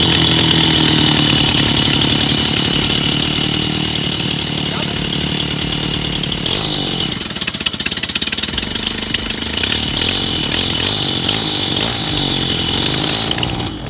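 The petrol engine of a home-built budget paramotor runs steadily and loudly for the whole stretch, a harsh, buzzing roar like a chainsaw, with small shifts in pitch partway through.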